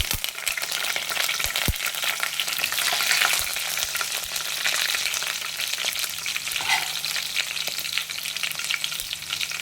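Green chillies fry in a hot pan for egg rice, giving a continuous bright sizzle with scattered crackles and a few soft stirring clicks, close and without talk.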